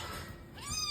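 A cat gives a single soft meow near the end, quiet and close, after a moment of low background hush.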